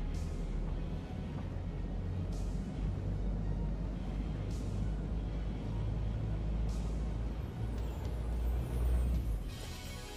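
A vehicle drives in the factory-building game Satisfactory, a steady low engine rumble with periodic whooshing bursts of air and a slight rise in loudness near the end.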